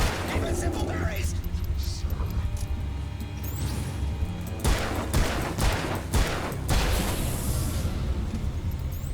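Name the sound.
gunshots in the video game Alan Wake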